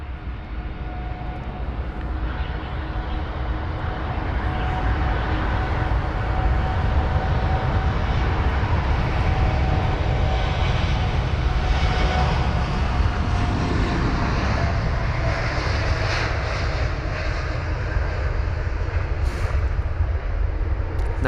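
An Air Canada Boeing 787-9 Dreamliner takes off at London Heathrow, its engines a steady, loud broadband roar that holds throughout with a faint tonal whine and no talk.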